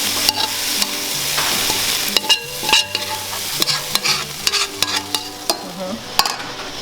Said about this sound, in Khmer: ចាំយើងឆាមីយើងដាក់វាចូល